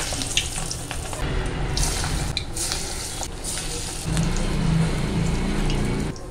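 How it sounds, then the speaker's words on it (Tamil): Masala vada frying in hot oil, a dense, close sizzle and crackle running continuously and swelling louder toward the end, with small bubbling bursts throughout. "நம்ம வடையை பொரிச்சு எடுத்துடலாம்."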